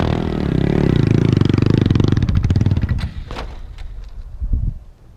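A motorcycle engine runs loud and close during circle wheelie practice, a steady rumble that sags and falters as the bike starts cutting out, ending in sputters and clatter.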